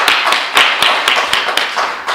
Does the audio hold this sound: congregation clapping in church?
yes